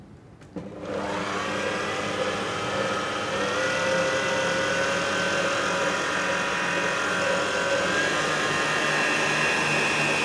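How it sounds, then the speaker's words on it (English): Electric food mixer whisking egg whites for a lemon meringue roulade, a motor starting abruptly then holding a loud, steady whirring hum, close and alone. "preferably an electric food mixer, because this will get us the volume"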